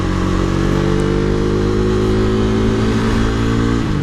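A loud modded KTM RC390 sport motorcycle engine drones at high revs on a highway, pitch climbing steadily as it accelerates, then shifting briefly near the end.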